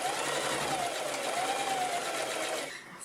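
A sewing machine stitches steadily through fabric while a floral dress is remade into a 1940s-style garment, a continuous close whir that runs unbroken for about two and a half seconds before easing off.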